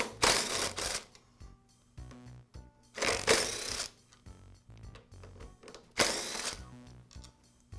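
Power screwdriver removing the screws that hold the primer base on a Briggs & Stratton small engine: three whirring bursts of roughly a second each, separated by quieter gaps with faint clicks and handling noise.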